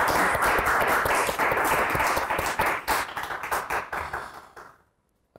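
A studio audience applauds in a dense burst of clapping that stays loud at first. Individual claps then thin out and fade into silence over about five seconds.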